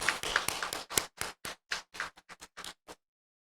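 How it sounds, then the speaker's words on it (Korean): About a dozen separate claps from a church service congregation, close and fairly sharp, starting quick and irregular and then thinning out before stopping, followed by silence. "우리 서로 격려의 박수를 하도록 하겠습니다"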